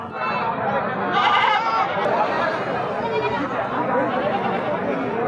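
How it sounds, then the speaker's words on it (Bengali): Many goats bleating at a crowded rural goat market, repeated overlapping bleats near and far over a constant murmur of chattering people and voices talking close by. "তো দেখছেন প্রচুর ছাগল আছে আজকের হাটে।"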